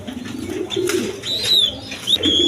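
Pigeons coo nearby in a breeding loft where colored pigeons are kept with their chicks, soft repeated cooing mixed with a few high chirps and faint rustling, with no voices.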